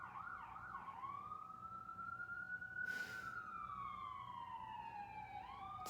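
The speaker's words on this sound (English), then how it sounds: "Yep, fire trucks." Fire truck sirens sweep past outside, a long rising and falling wail holding steady across the whole stretch, with a loud burst of noise around the middle and no voices over it.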